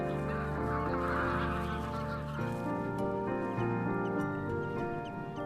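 Greylag geese honk loudly and continuously in a rough, overlapping chorus while defending their young against a gull on a Scottish sea loch, with harsh nasal calls close by.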